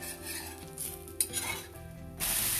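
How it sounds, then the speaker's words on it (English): A puffed rice dosa cooks in oil on a pan with a soft sizzle, with utensil scrapes and clinks on the pan, and a louder burst of sizzling near the end. "Now we'll add a little oil and cook it properly"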